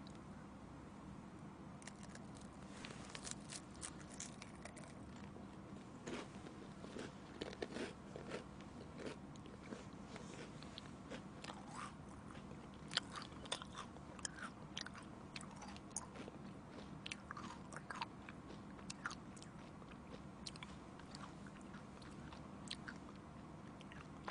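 Honeycomb is bitten and chewed close to the mic during an eating show, with wet sticky crunches, squishes and smacking repeating throughout.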